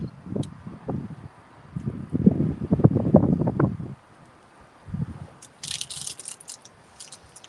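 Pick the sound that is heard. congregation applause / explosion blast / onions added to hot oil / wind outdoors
wind outdoors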